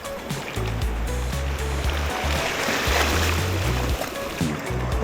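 A fishing kayak launches into the water on a trip in Johor, with a close rushing and splashing wash over a low, rumbling hum, carrying on steadily throughout.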